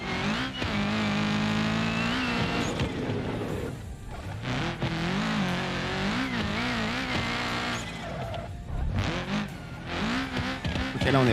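A car engine revs hard and continuously in the BeamNG Drive driving game, its pitch climbing and dropping in repeated surges as the motor is pushed to the point of failure, loud and close with brief tire noise.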